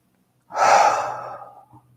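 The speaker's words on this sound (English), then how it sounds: "Big breath in and out again." A single deep breath drawn in and let out during a calm children's storytime, a soft airy rush that swells quickly and then fades slowly, close to the microphone with no talking.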